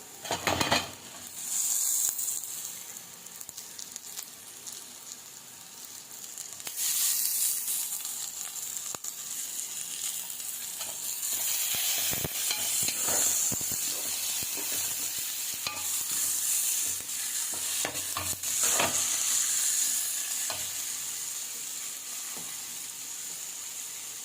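Chopped tomatoes sizzle in hot oil in a pan for egg curry. A steady, close frying hiss is broken by repeated scraping and clinks of a spoon stirring against the metal.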